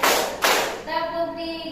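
Children at a school gathering clapping in a counted rhythm, two sharp bursts of group claps followed by a sustained voice after them.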